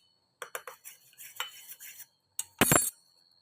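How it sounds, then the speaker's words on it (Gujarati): A metal spoon stirs baking soda into water in a vessel, with quick clinks and scrapes at an irregular rhythm, then a louder burst of clattering near the end, close and quiet with no talk. "પાણીમાં મિક્સ કરી દઈશું"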